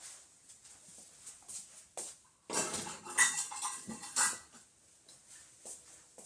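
Dishes are moved into a kitchen sink, producing a cluster of close ceramic and metal clatters and clinks in the middle, with quieter handling noises before and after.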